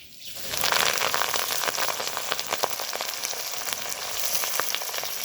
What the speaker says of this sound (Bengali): এইভাবে আমি খুব সুন্দর করে নিম পাতাটা কড়াতে ভেজে নিব তেলের সঙ্গে